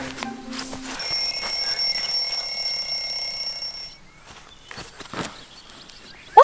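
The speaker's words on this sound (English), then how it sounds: "That's the alarm going off saying that we've done 24 hours." Electronic alarm going off outdoors at the end of a 24-hour outside challenge, a sustained high beeping tone that runs for about three seconds, then cuts out, leaving quiet outdoor sounds and a few footsteps.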